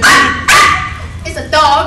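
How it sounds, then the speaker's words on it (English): A dog barks in two loud, close bursts, then gives a couple of softer yelping calls, with no one speaking over it. "It's a dog."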